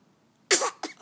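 A single close sneeze bursts out abruptly after a quiet moment, with a second smaller expulsion following just after, loud and sharp against near silence.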